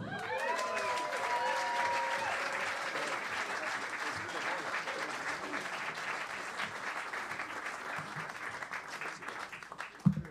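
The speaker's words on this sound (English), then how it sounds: "Please, round of applause for Liam O'Brien." An audience at a traditional Irish music festival in St Louis claps loudly for a concertina player from County Clare, the applause holding steady before fading out, with faint voices and cheers mixed in.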